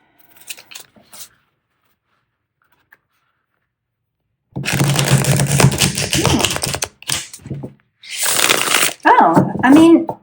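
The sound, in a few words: shuffling a tarot card deck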